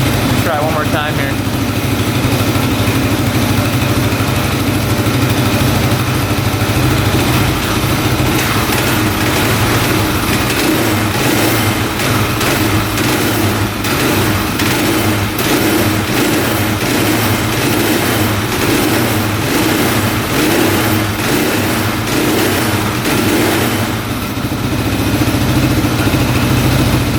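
A cheap street-legal dirt bike engine idles steadily and loud close by, a continuous throbbing mechanical drone that runs unbroken from start to finish with no voices.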